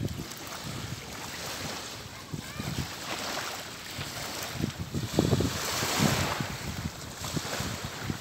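Waves wash onto Pede Beach in Labuan Bajo, a continuous surf roar mixed with gusty wind buffeting the microphone, swelling louder midway through.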